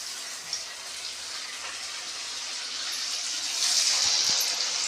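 Small pieces of maize dough for Telangana makka garelu, with crushed cumin mixed in, fry in hot oil with a steady bright sizzling hiss that swells louder toward the end, close and with no talking.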